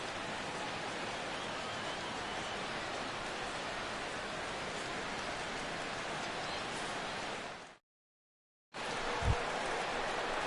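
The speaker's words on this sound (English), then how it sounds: "the rain continues to fall here" Steady, dense rain falls in the baseball video game MLB The Show 16, a continuous hiss that cuts out briefly near the end and then returns, with a small thump.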